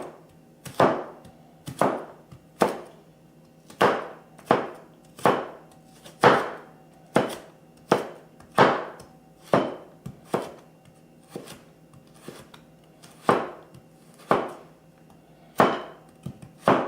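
A knife slices through carrots onto a cutting board in a steady series of sharp, close chops, roughly one per second, with a short pause midway and quiet in between.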